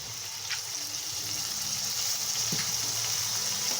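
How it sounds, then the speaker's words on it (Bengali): Spice paste frying in a pan for a chickpea and pea curry, a steady soft sizzle with faint stirring scrapes and a couple of light clinks, moderately close. "দিয়ে ভালো করে ভেজে নেব লাল লাল করে। যে পেস্টটা আমি তৈরি করেছিলাম সেই পেস্টটা এটার মধ্যে অ্যাড করে দেব"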